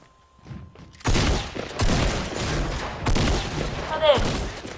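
Gunfire in the video game Fortnite during a duos match, with dense bursts of rapid shots and booms filling several seconds, loud and close, mixed with players talking.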